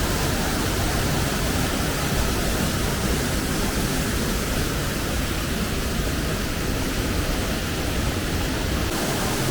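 Rushing water of Boka waterfall in Slovenia roars steadily and loudly, a dense, unbroken wash of noise from start to finish with no one talking.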